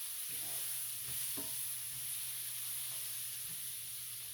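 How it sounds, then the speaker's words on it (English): Onions fry and caramelize in a pan for Southern liver and onions, a soft steady sizzle with a couple of faint stirring knocks, fairly quiet and free of talk. "We're gonna let that fry. Let these kind of caramelize real good."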